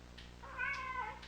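A cat in the Kentucky Route Zero video game gives a single drawn-out, rising and falling meow, close and clear over a soft low hum of background ambience.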